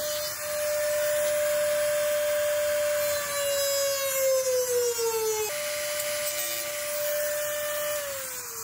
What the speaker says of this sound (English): I'm going to use the Dremel just because it's easier to make a smaller cut